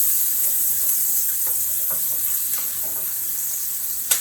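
Onions sizzling and softening in a hot pan for a tuna noodle casserole, a steady close frying hiss with faint stirring clicks throughout, no talking.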